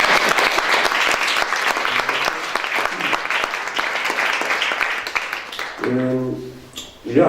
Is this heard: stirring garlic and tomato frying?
no